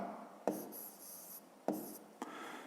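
Answer written by hand in a fifth-grade maths exercise, faint pen or pencil scratching on paper with a few short strokes and soft taps, quiet and close.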